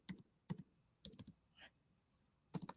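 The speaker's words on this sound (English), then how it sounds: "I'm typing that in the chat as well." Quiet, close keystrokes on a computer keyboard come in short bursts of a few clicks each, separated by pauses, with no talking.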